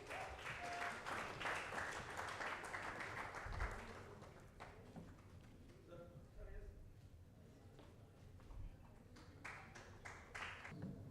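An open-mic poetry awards event audience claps to welcome a choreographer guest, with dense applause that is loudest at the start, thins in the middle, then swells again, mixed with background voices.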